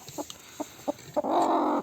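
Several soft, clipped clucks spaced out, then a longer, louder squawking call from a chicken, heard nearby in a quiet outdoor setting.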